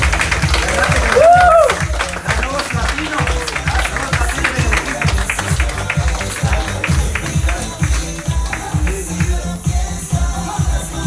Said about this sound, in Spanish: vamos a darle una bienvenida como se merece, un tremendo aplauso